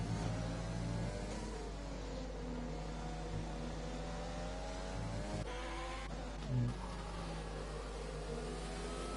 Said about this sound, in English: Over revs his gearbox a bit for my liking in these conditions.